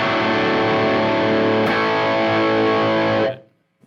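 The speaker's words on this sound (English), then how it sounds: "I always put the distortion through the 808" Heavily distorted electric guitar pushed through an 808 overdrive pedal for a heavier rock tone, one dense sustained chord ringing loud for about three seconds before cutting off abruptly.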